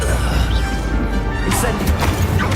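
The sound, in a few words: Crucio curse cast in video game Hogwarts Legacy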